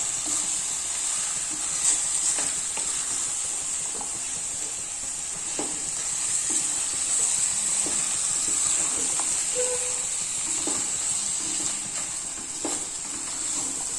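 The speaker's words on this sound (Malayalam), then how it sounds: "മസാല ഇട്ടിട്ട് നന്നായിട്ട് മിക്സ് ചെയ്തെടുക്കാം. ഈ മസാലയൊക്കെ എല്ലാ കഷ്ണത്തിലും ഒന്ന് പിടിക്കുന്ന മാതിരി നന്നായിട്ട് വഴറ്റി കൊടുക്കാം." Masala-coated chicken pieces fry in a pan, giving a steady loud sizzle and hiss throughout, with scattered scrapes and clicks as the spice mix is stirred into the meat.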